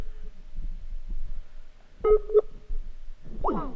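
An outgoing phone call placed during a live-stream: a steady ringing tone runs under the first half, then brief dialing beeps and a short rising electronic chirp near the end, with no one speaking.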